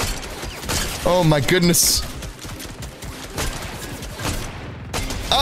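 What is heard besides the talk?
DMR gunfire in Fortnite video game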